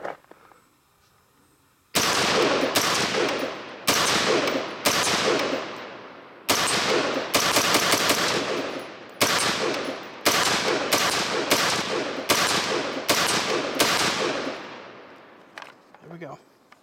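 An HM Defense MB5 rifle fired in rapid single shots, loud and close outdoors. After a quiet opening, more than a dozen sharp reports follow, each with a trailing echo, at a quick, uneven cadence.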